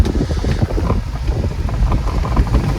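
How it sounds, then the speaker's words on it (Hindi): River water rushing past near a bridge in riverside jungle, a steady broadband wash with heavy wind buffeting the microphone throughout, no voices. "ओहो देखो पानी चल रहा है।"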